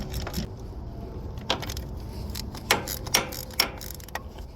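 A ratchet fitted with a long socket clicks on a starter bolt of a Case 580E tractor, rapid pawl clicking with several sharper turns standing out, close and mechanical.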